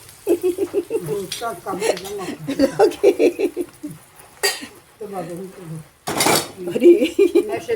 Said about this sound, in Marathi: आता हे वाटलेलं खोबरं घातलंय आता हे परतून घेऊया